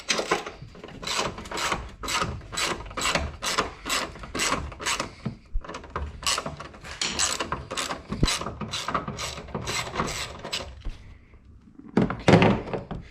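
A ratchet wrench clicks in rapid repeated bursts while nuts are removed from the top of a strut during a coilover install on a Subaru Legacy BP5 wagon, loud and close with short pauses between runs.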